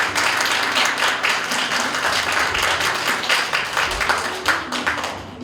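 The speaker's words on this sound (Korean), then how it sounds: "박수 부탁드립니다" Audience applause at a Korean poetry recitation contest, a continuous crowd of clapping hands at moderate level that tapers slightly toward the end, with no speech.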